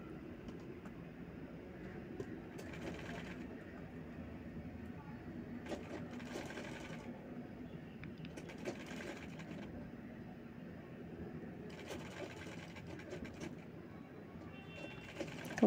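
Sewing machine stitching baby kurta fabric, a faint steady running hum with brief bursts of faster stitching, heard at a distance against a quiet room.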